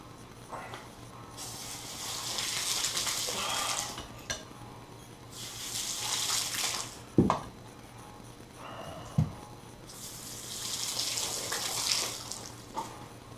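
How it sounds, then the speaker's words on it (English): Tap water running in bursts over small parts being rinsed clean in a sink, three long splashing streams separated by pauses with a couple of knocks from handling the pieces. "let me rinse this stuff off"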